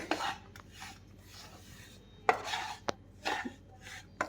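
Powdered sugar being mixed by hand into a semolina laddu mixture in a bowl, heard as intermittent dry rasping rubs and scrapes with a couple of sharp taps, fairly quiet and close, without speech.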